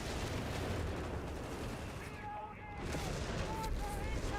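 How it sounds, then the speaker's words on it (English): Airburst artillery barrage in the video game Company of Heroes 3, a dense continuous roar of overlapping blasts and battle noise, loud throughout, with a slight dip midway before the barrage swells again. "It is an airburst barrage there"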